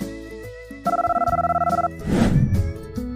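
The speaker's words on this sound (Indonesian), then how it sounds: "Suatu malam, Emily mendapat telepon." A telephone ringing sound effect in a cartoon story: one rapid trilling electronic ring of about a second, loud and close over soft background music, followed by a brief thump.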